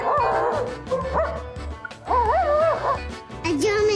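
A German Shepherd dog barks up close in quick bursts, mixing deep woofs with high yips and whiny, whimpering cries during play over a toy.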